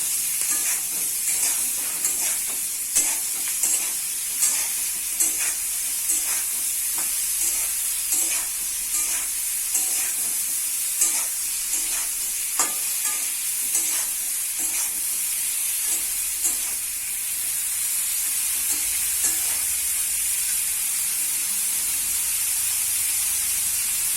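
Cauliflower florets frying in a pan with salt and turmeric powder, a continuous bright sizzle broken by regular scraping stirs and clinks of the spatula, close and loud.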